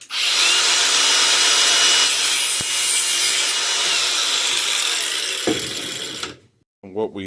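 An angle grinder cuts through a carbon crossbow bolt, a loud continuous high-pitched whine and grinding that holds steady for about six seconds before stopping abruptly, with a few faint clicks after.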